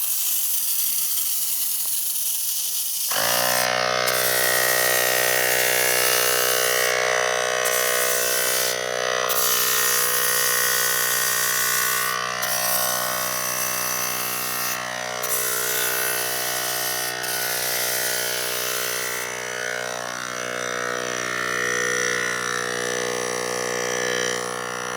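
An IK e-Foam Pro 2 battery foamer sprays soap diluted one ounce to 32 ounces. After a quiet start its motor kicks in with a steady buzzing whine and spray hiss, running near and continuous with brief dips and rattles.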